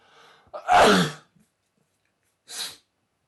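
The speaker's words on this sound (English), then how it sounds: "I'm gonna sneeze." A person sneezes once, loud and close, with a sharp burst followed by a shorter breathy sound, with no talking.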